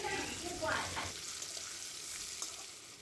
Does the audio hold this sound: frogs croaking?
no